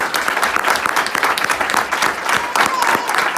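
A crowd at a police press conference honoring Bridgeport officers for heroism claps, a dense, lively burst of applause, close and fairly loud, sustained with uneven swells across its length.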